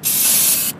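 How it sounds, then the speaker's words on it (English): An aerosol spray paint can fires one steady, loud hiss that runs for most of the moment and then cuts off sharply, used while hydro dipping scooter parts. "now spray paint"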